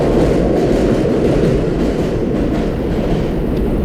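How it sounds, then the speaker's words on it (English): An elevated train rumbles overhead on Liberty Avenue at 110th Street in Queens, a loud, steady roar with faint clickety-clack of wheels that fills the whole stretch without letting up. "This train's going over."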